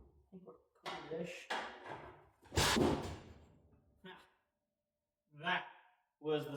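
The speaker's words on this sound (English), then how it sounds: "That was the sound of the transmission hitting the floor." A loud heavy thud rings out once as the transmission of a 1974 crew cab truck drops onto a shop floor, with someone talking and exclaiming in short bursts around it.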